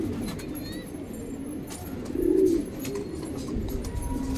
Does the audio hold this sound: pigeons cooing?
yes